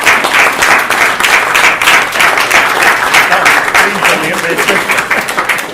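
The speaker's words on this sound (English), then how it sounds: "I'd like to get a round of applause for Jackie and for Malcolm" A room full of forum attendees gives a round of applause for Jackie and Malcolm, dense continuous clapping that holds strong throughout before easing slightly at the end.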